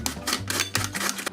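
Onions are pushed through a manual vegetable dicer with its guard in place, giving a fast run of crisp, close clicking and crunching chops in an uneven rhythm.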